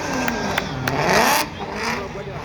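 A patrol car doing a burnout at a monster truck show, its engine revving loudly and steadily with tire roar swelling toward the middle, while crowd noise and an announcer's voice run underneath.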